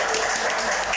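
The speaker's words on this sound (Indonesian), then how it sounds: "Kasih tepuk tangan dulu." Applause from a studio audience at an Imigrasi Jambi radio event, a dense, even wash of clapping filling the whole second without pause.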